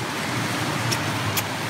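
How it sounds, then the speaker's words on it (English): Road traffic noise outdoors in pouring rain, a continuous broadband roar of passing cars with a couple of brief high squeaks, loud and close, no talk. "A lot of road noise here."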